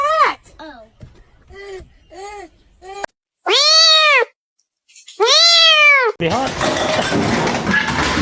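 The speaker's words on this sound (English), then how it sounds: "That's your cat." A cat meowing repeatedly, a string of short mews followed by two long, loud, drawn-out wails, ending in a burst of noisy rustling.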